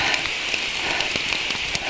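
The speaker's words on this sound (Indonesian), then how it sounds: "biar ketangkap suasana hujan pas perjalanan" Rain patters steadily on a nearby surface on a mountain climb, a dense hiss broken by louder individual drops tapping at irregular moments.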